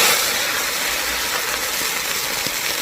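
Water hits caramelizing sugar in a hot pan and sends up a loud, steady hiss of steam, close and continuous throughout, with no voices.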